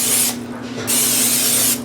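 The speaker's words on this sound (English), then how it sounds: "Another thing I'm going to try is putting some nonstick spray" Two steady bursts of nonstick cooking spray, a short hiss followed by a longer one, close and loud with a brief pause between.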